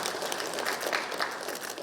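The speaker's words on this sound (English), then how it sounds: "A clap for them as they exchange the document" An audience claps at a state-visit signing ceremony as officials exchange a fisheries and aquaculture cooperation document, soft scattered applause heard from a distance.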